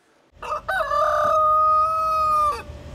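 A single rooster crows nearby on a farm beside a castle winery, a long, loud cock-a-doodle-doo held steady before cutting off, with faint background hum.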